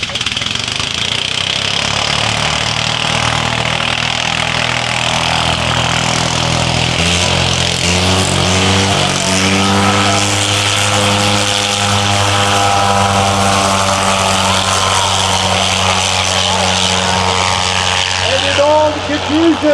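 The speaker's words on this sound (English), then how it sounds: "Warming up the south end of the field is one of the Black Baron's henchman pilots at the controls of the 1918 Fokker E5." A 1918 Fokker E5 vintage airplane's engine warms up at the south end of an aerodrome field, a loud, steady propeller drone with shifting pitch that holds for the whole stretch.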